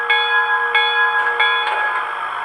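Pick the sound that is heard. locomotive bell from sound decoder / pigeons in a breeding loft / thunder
locomotive bell from sound decoder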